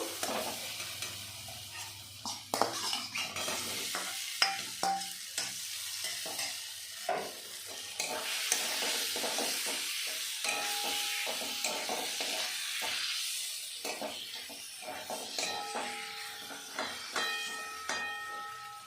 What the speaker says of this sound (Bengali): আলুটা আমি এক মিনিট মতো কষিয়ে নিয়েছি